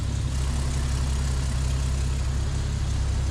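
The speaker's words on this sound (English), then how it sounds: "The idling, it's not trying to die?" A Jeep Wrangler engine idles steadily after a tune-up, giving a continuous deep rumble that stays even and close throughout, with no talking.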